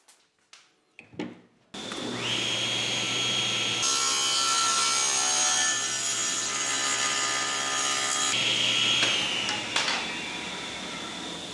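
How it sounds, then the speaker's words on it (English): Oak is hand-sawn into thick strips for a router jig build, the saw rasping continuously and loudly up close for about ten seconds after a few brief knocks at the start. "what I'm going to do is cut 2 3/4 inch thick strips"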